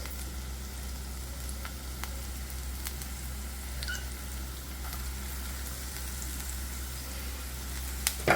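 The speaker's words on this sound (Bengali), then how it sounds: "পেঁয়াজটাকে ভেজে নেবো" Onions frying in hot oil for crispy chilli baby corn, a soft steady sizzle under a low hum, with scattered faint taps of a spoon against the pan and no speech.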